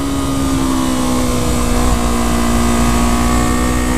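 A modded 2015 Yamaha R3 motorcycle engine accelerating, a loud, steady high-pitched whine that holds close and continuous throughout.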